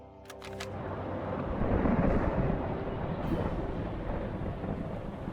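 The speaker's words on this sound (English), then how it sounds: "we got thunder snow or something going on here" Thunder rolls through a storm in the submarine game UBOAT, a long low rumble that swells and holds steady, loud and close, with no voices over it.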